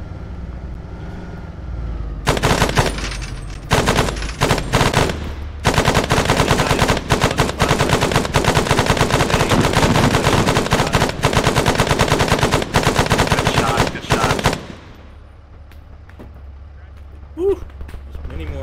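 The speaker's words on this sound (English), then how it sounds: "Getting a fire from front in the tree line." Arma 3 combat: enemy fire from a tree line ahead, with loud, dense bursts of automatic gunfire and rapid shots crackling nonstop for about twelve seconds before dropping to near quiet.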